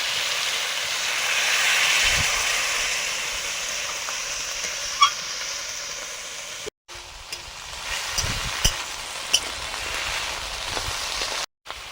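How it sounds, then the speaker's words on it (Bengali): Water hitting sautéed okra, amaranth stalks and leafy greens in a hot pan makes a loud, steady sizzling hiss. After a brief break it keeps sizzling, with a few sharp utensil clicks from stirring. "সবজি কষানো হয়ে গেছে, জল দিয়ে দিচ্ছি।"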